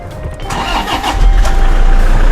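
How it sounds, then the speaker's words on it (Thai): A 2014 Toyota Hilux Vigo 2.5G Double Cab pickup engine cranks briefly then catches, rising into a loud, deep rumble that settles toward a steady idle, heard from inside. "สตาร์ทรถ"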